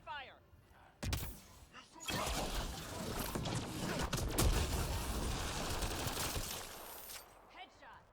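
Gunfire during Mass Effect Andromeda video game combat: loud, sustained bursts of rapid fire with brief pauses, close and dense, a short gap near the start.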